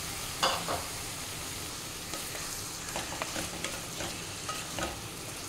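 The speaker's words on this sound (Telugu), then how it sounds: "వేయించిన తర్వాత మనం ముందుగా కలిపి పెట్టుకున్న చికెన్ని ఇందులో వేసేసుకోవాలి" Marinated chicken fries in a pan with ginger and garlic, giving a steady close sizzle broken by occasional spoon stirs and small crackles; no voices.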